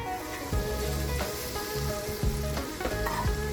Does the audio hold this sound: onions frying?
yes